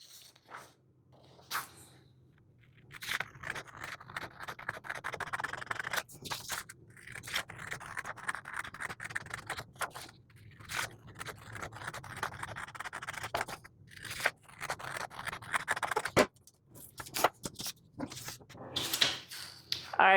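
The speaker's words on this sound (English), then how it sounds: "So get your paper scissors, get you some tape, and here we go." Paper scissors snip and scrape through paper while pattern pieces for a men's apron are cut out, with continuous close rustling and crisp cuts, and a voice talking at times.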